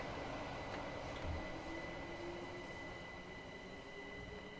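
A passing train in Train Sim World 2 on the Brighton Main Line's Reigate branch at rush hour gives a steady rolling rumble with faint high whining tones, holding at a constant level throughout with no voices.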